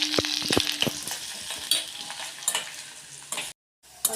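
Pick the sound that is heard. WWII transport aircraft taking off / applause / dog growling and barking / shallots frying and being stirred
shallots frying and being stirred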